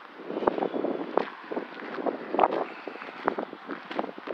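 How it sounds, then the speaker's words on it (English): Strong wind buffets the microphone in irregular gusts, producing rough rumbling bursts and thumps over a steady blustery hiss. "it's very windy right now"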